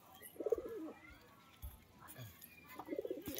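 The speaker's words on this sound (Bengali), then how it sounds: "দেখুন পায়রাটা" A large pigeon cooing up close in two soft, throaty bursts, one early and one near the end, with quiet outdoor background between them.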